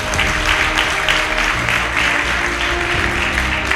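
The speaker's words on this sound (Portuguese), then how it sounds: "Alguém pode aplaudir para Jesus?" Church congregation clapping together during a sermon, a dense sustained wash of applause filling the room, steady and fairly loud throughout.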